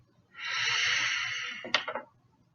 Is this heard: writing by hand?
no